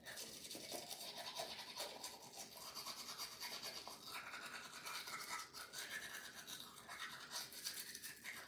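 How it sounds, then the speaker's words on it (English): Brushing teeth with a toothbrush during a night-time routine, a continuous close scrubbing and rasping sound with quick back-and-forth strokes and no talking. "now I'm gonna start brushing"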